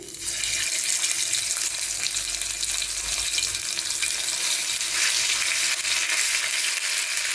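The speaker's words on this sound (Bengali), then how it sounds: "তো আমি এখানে চিকেনগুলো দিয়ে দিলাম।" Chicken tikiya frying on low heat, a steady, close, hissing sizzle that holds unbroken and fairly loud throughout, with no talking.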